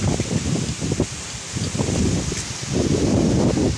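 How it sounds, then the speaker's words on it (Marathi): Wind blowing outdoors in a village on a cloudy day with no rain, a steady rushing gust with rustling leaves and low microphone buffeting, continuous and fairly loud throughout. "आमच्याकडे कसलं ढगाळ वातावरण झालंय आणि नुसता वारा आहे बघा"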